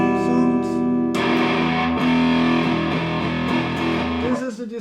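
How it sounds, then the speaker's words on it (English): A clean electric guitar rings close and loud, a held chord giving way to a run of picked notes and strums that trail off at the end. "Okay, so this is the clean sound."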